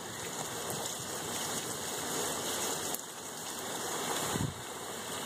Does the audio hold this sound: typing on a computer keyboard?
no